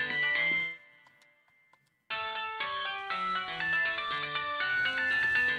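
A mobile phone ringtone plays a bright, melodic electronic tune, cuts off briefly, then resumes loud and close with repeating chime-like notes and no talking.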